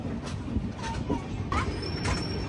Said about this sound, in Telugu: అటు సైడ్ ట్రాక్లో చూడండి ఒక గూడ్స్ ట్రైన్ మనతో ప్యారలల్ రన్ అయితే అవుతుంది